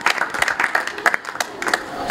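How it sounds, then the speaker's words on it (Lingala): A school audience claps for a group of pupils, a brief burst of scattered applause from a modest crowd, close and uneven, with a voice speaking through it. "Merci, on peut applaudir pour eux"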